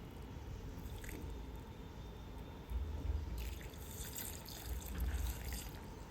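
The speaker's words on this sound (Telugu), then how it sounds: "హాఫ్ గ్లాస్ వాటర్ వేసుకొని" Half a glass of water is poured into a mixer jar of pesarattu batter ingredients: a soft liquid splash and trickle that swells louder midway, then keeps splashing in uneven bursts, with no talk.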